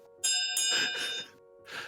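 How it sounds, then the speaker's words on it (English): A hand bell rings to close a live chat stream, with a few bright strikes whose clear, sustained tones overlap and ring out closely, and no talking. "let me do the bell."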